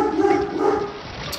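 A large 120-pound dog indoors gives a short, high squeaky whine-like bark, close and fairly loud, lasting about a second.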